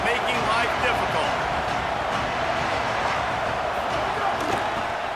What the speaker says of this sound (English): Now this home crowd making life difficult.